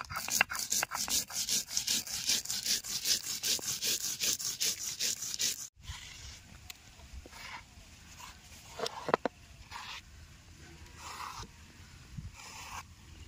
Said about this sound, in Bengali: এবার সাদা সরষে আর কালো সরষেটা বেটে নেবো।